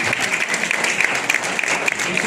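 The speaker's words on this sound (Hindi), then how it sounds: "जोरदार ताली स्वागत करें" Loud, steady applause from a crowd at a Christmas choir festival, dense continuous clapping with a voice faintly underneath.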